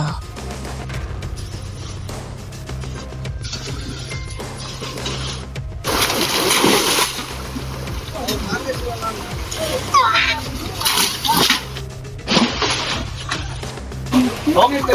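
Water splashes and sloshes repeatedly as people bail a stream by hand to reach fish in a village creek, with irregular bursts close by and children's voices around the scooping.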